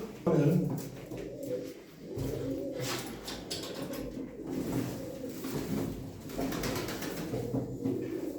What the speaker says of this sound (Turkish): Bunlar Şemuz Arıkabemizin kalan kuşlarıdırlar.